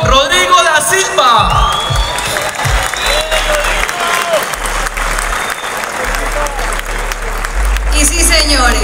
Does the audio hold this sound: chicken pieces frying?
no